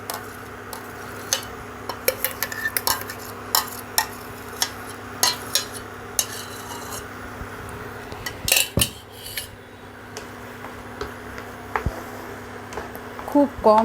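Mashed ripe mango paste is stirred in a wok for mango candy: a spoon scrapes and clinks against the metal in irregular taps over a low background, with a voice faintly present.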